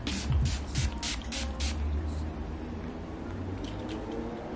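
Several quick hissing spritzes of a makeup setting spray come in a short burst near the start, close and soft, followed by quiet handling noise.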